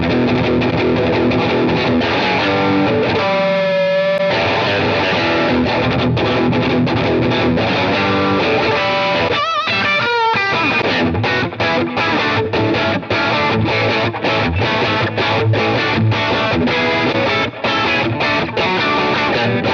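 A Fender Telecaster fitted with a 1971-style pickup plays a continuous run of loud, clear overdriven chords and notes with punchy attacks and a few brief pauses.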